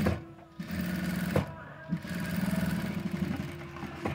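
Sewing machine stitching thread piping with a loading cord, running in steady rhythmic bursts with brief pauses, close and fairly loud.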